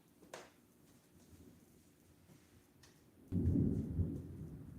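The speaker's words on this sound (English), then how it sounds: "Did you hear the thunder? It just thundered." Thunder rumbles outdoors during a storm, a faint low roll that swells into a louder, deeper burst near the end, with light rain noise in the background.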